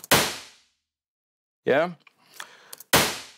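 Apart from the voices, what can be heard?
plate reverb with felt plate near resonator, shorter reverb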